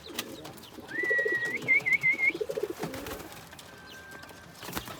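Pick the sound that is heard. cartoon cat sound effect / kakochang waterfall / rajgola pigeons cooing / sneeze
rajgola pigeons cooing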